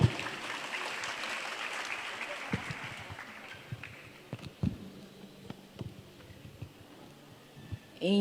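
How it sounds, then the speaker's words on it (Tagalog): Congregation applause at a church morning service during a summer camp, a diffuse patter of clapping in the first few seconds that thins into scattered claps and faint voices before a louder burst at the end. "Isa pa pong palakpak para kay Pastora Ellie."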